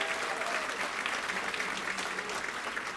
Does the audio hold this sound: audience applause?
yes